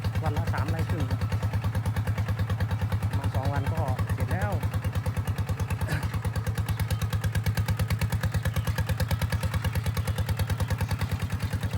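A walking tractor engine chugs in first gear while raking a rice field, giving off a loud, rapid, even thumping pulse that runs through the whole clip, with some clatter on top.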